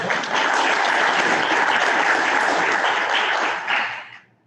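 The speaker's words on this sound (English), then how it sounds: "Let's give them another round of applause." A luncheon crowd claps in loud, sustained applause that holds steady for several seconds, then tapers off and fades out.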